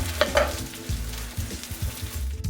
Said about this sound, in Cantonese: 咁煎到咧一邊金黃色咧，你可以反去另一邊。